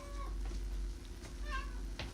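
A house cat meows a couple of times at moderate distance, brief rising calls over a steady low hum and background room noise in a kitchen during food prep.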